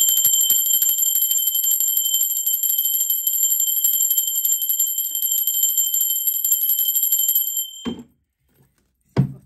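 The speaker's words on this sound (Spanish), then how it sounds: "Ahora te toco la campana y te vas loco de susto" A bell rings continuously for several seconds with a bright, sustained ringing tone, then stops abruptly, followed by a couple of low thumps.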